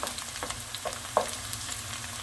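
Small fresh garlic cloves and a little onion fry in a pan with a steady soft sizzle, broken by a few faint clicks and stirring taps.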